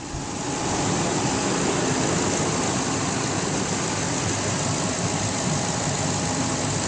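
A 2006 Toyota Tundra 4WD pickup engine idling under an open hood, a smooth continuous hum and whir holding steady at constant loudness throughout, with no one talking.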